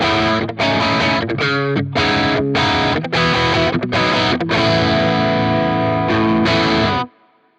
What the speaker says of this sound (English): Next, we've got our crunch sound on scene B.